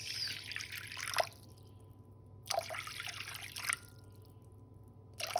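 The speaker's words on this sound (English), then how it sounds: "So I always start with the water first, 330 grams." Water is poured into a bowl for sourdough dough, three short splashy bursts of liquid at close range separated by quiet pauses.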